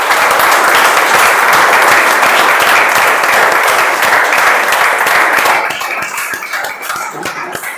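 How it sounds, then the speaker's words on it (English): Loud, close applause from a club meeting audience welcoming newly inducted members, dense clapping that fades noticeably in the final seconds. "Can we have a round of applause for them?"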